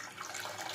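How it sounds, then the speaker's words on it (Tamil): Water runs steadily for a moment into a cooking pan, a soft, continuous splashing pour close by, with no voices. "ஒரு பேன்ல தண்ணி ஊத்திக்கலாம்."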